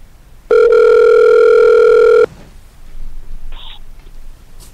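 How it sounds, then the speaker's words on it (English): A telephone call placed to a truck owner-operator produces one long, loud, steady ringback tone lasting under two seconds, then quieter line noise and a brief higher tone, heard close and alone. "We're going to call him up, see what he's up to."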